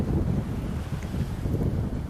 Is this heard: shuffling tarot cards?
no